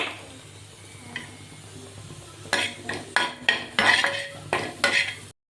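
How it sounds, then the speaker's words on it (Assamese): Small fish fry in a metal pan, with a soft background sizzle and then a run of loud clanks and scrapes as a utensil stirs and knocks against the pan before the sound cuts off. "এতিয়া অলপ সৰু মাছ ফ্ৰাই কৰি ল'লোঁ।"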